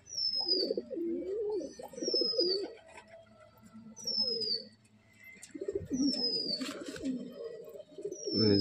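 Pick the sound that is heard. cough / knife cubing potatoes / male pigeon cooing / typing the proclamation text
male pigeon cooing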